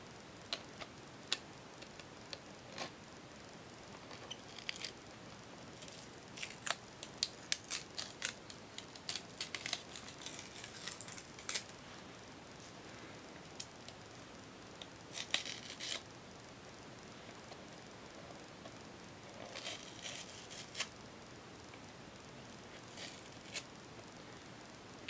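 A peeling Blockbuster label is picked and pulled off a 1986 VHS tape up close, giving quiet, scattered ticks, crackles and small tearing sounds at an irregular pace over a faint steady background hiss.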